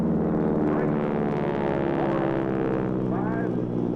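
A stunt airplane's propeller engine drones steadily and loudly through a nine-point roll at an air show, its pitch shifting slightly as it passes, with a commentator's voice over it.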